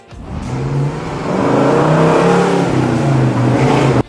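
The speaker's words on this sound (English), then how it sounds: "At number 3, we have the 1964 Pontiac Tempest GTO." The engine of a 1964 Pontiac Tempest GTO muscle car revs up and holds a loud, steady rising drone for several seconds before cutting off abruptly.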